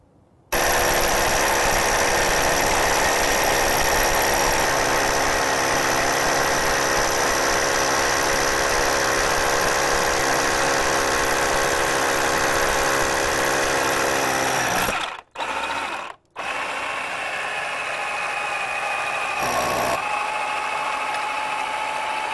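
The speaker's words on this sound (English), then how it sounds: "now I've finished drilling the hole" A loud power drill runs steadily while drilling a hole through a wall, whirring for about fifteen seconds, stops briefly, then restarts with a slightly lower, strained tone.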